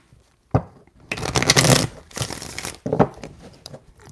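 Tarot cards are shuffled close by in three quick riffling bursts, crisp and papery, with no speech.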